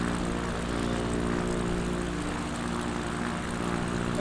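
A propeller aircraft engine in a flight simulator game drones with a steady, even hum and a constant buzzing pulse, loud and alone throughout.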